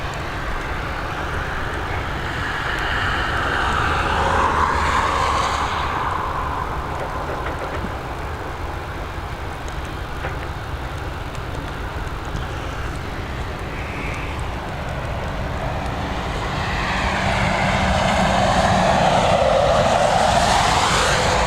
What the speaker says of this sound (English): next up we're heading over to Amsterdam with this A320, and then we have an ATR heading to Bristol